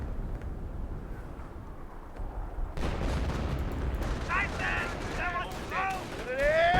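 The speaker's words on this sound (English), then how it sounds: "here comes the first M2 shot. And does fully destroy that MG42" A Company of Heroes 1 battle plays out with M2 and MG42 machine gun fire. Distant low rumbling swells into louder bursts of firing and impacts, with whistling tones toward the end.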